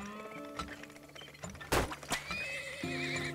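Horses whinny in the video game Turmoil, with several high, wavering neighs layered over clip-clopping hooves and a sharp thunk, loud and close with no talking.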